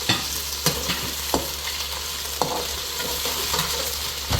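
Potato cubes fry with onion in hot oil, giving a constant sizzle. Several sharp stirring clicks and scrapes from a utensil against the pan punctuate it at irregular intervals.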